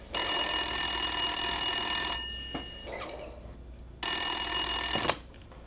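A phone rings loudly in two bursts, a bright electronic bell-like ring lasting about two seconds, then a pause before a second shorter ring.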